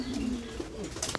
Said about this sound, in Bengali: এটা কি এটা কি কবুতর?